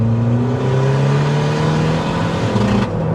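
A 353 bhp Skoda Fabia VRS accelerates hard with a loud, steady engine drone whose pitch climbs continuously toward the rev limiter, heard up close from inside the car.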